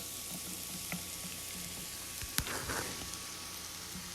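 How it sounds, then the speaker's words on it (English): Mushrooms dropped into a pan of sweating onions set off a steady, quiet frying sizzle, with a brief clatter and louder crackle partway through. "Once the onions start to sweat, you get your mushrooms, and you're gonna want to add them"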